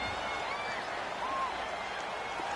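Steady wash of stadium crowd noise in a football video game, a loud, continuous roar with faint whistling tones drifting through it, holding level throughout with no clear breaks.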